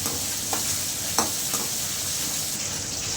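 Turkey berries sauté in hot oil for a tamarind kulambu, giving a steady close sizzle with a few soft scrapes of a stirring spoon and no talking.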